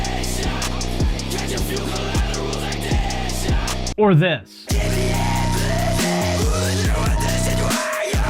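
Heavy distorted trap metal with booming bass and pounding beats, a sudden break midway with a brief vocal shout before the loud track crashes back in.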